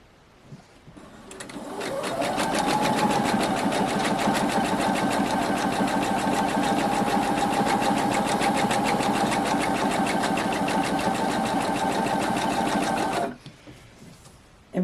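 Sewing machine with a quarter-inch foot stitching quilt fabric along a line, a steady close motor whir with rapid needle clatter running for about eleven seconds before stopping.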